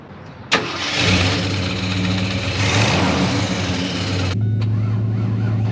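A Ford Mustang GT with an old battery cranks briefly, then fires into a loud, near, steady rev for a few seconds before dropping sharply to a rumbling idle.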